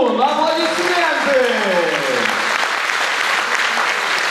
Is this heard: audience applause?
yes